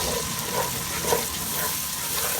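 Green chilli, red chilli, turmeric and salt sizzle in a pan for Punjabi kadhi pakora, a steady crackling fry throughout with no voices.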